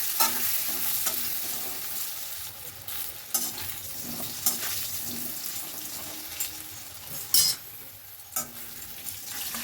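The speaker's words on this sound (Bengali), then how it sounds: "লবণ আর হলুদ দিয়ে আলুগুলোকে আমি একটুখানি ফ্রাই করে নেব।" Boiled potatoes with salt and turmeric fry in oil, giving a soft steady sizzle under clinks and scrapes of a spoon against the pan. There are a few sharper knocks, and a faint running-water sound sits in the background.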